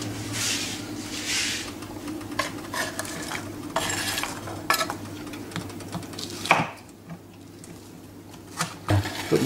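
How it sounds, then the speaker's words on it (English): Pinto bean and eggplant curry stirred in a pot, with utensil scrapes and clinks against the pot and a few louder knocks near the end, sounding close by and with no talking. "So stir it around a bit and bring this to a simmer."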